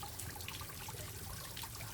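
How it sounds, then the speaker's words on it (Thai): Water splashes and trickles steadily down an artificial waterfall of real stone in a front garden, a continuous soft, close rush. "มา ชมน้ำตก จำลองนะครับหินแท้นะครับ ไม่ใช่หินเทียมนะครับ"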